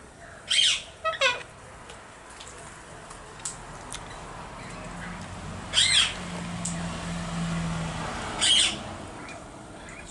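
Released wild birds call outdoors in short, loud squawking bursts that repeat at intervals over a steady background hum.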